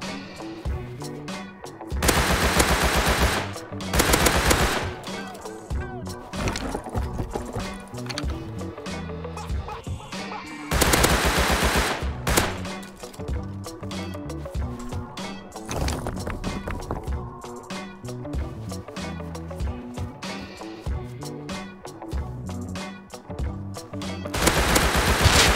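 Tommy gun automatic fire in the survival game Rust, with loud rapid bursts around 2, 4 and 11 seconds and more scattered shots across the rest, under a busy game soundscape.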